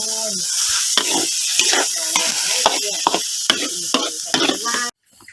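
Field rat meat stir-fried in a pan for a spicy Isan dish, sizzling steadily with repeated scraping clicks of a utensil against the pan, close and loud, cutting off abruptly near the end.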